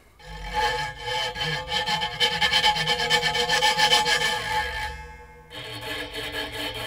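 Metal springs scraped as a sound source give off a loud, continuous metallic rasping with a grainy, rubbing texture that swells mid-way, breaks off briefly near the end and then resumes a little softer.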